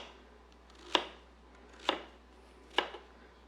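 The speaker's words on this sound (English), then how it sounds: "I'm just going to kind of give it a rough chop." Knife rough-chopping vegetables on a cutting board, three crisp, evenly spaced chops close by, each one loud and sharp against a quiet background.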